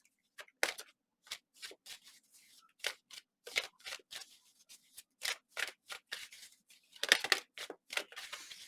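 Tarot cards being shuffled and drawn from a deck, a run of quick, crisp papery riffles and snaps in uneven bursts, close and fairly quiet.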